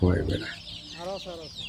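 Chickens and chicks on a domestic poultry farm being delivered, clucking and peeping in a short close burst, loud at first and then softer chirps.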